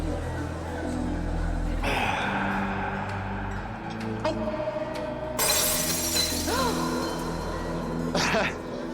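Glass shatters loudly indoors during a house party, a bright crash that cuts through a low, humming room tone, with brief voices and a smaller clink afterward.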